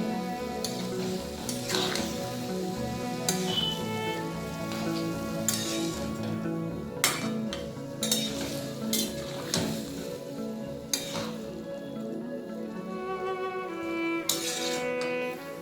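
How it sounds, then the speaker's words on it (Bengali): Bottle gourd greens being stirred in a pan with salt and turmeric, giving a steady sizzle with repeated scraping and clinking of a utensil against the metal, close and continuous throughout. "দিয়ে দিলাম 1 টিস্পুন হলুদ গুঁড়ো। সবটাকে ভালোভাবে মিশিয়ে নেব।"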